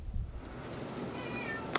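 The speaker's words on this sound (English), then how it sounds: "my cat's meowing and stuff" A house cat meows faintly in the background of a quiet indoor room, with low rumbling noise underneath and a brief sharper sound at the very end.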